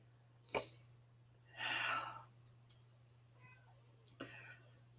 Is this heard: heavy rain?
no